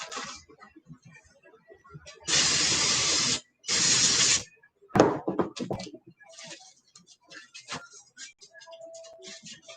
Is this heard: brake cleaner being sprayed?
yes